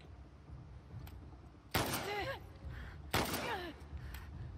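Two sharp gunshot bursts in The Last of Us Part II, each a sudden loud crack with a ringing tail, spaced about a second and a half apart over a quiet low rumble.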